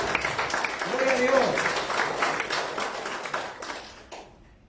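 A church congregation claps along in a lively, dense patter while a preacher's voice carries over the room, fading toward the end.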